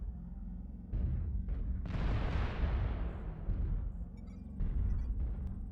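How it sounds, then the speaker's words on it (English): Incoming missiles strike during MechWarrior Online gameplay: a series of heavy, booming blasts. The biggest one rolls on and fades slowly, with further thuds around it, all loud and close against a low rumbling background. "Warning, incoming missile."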